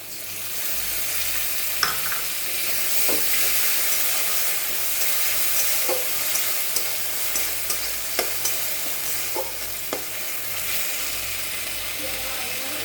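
Onion paste with ginger, cumin and chilli paste frying in oil while being stirred for a small-fish curry, a steady broadband sizzle broken by sharp scraping clicks of the spatula against the pan every second or two.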